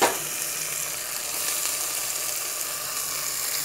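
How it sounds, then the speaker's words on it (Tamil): Onion, tomato and coriander sauté in a pan for sambar rice, giving a steady, close, bright sizzle that holds evenly throughout with no talking. "இப்போ வெங்காயமும் தக்காளியும் நல்லா வதங்கிடுச்சு. வதங்கினதுக்கப்புறம் கொத்தமல்லி போடுறோம்."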